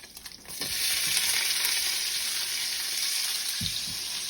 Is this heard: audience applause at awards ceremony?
no